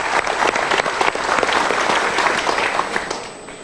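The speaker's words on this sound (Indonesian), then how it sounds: "Kita berikan tepuk tangan." A crowd claps steadily and loudly for a few seconds, the applause thinning slightly toward the end.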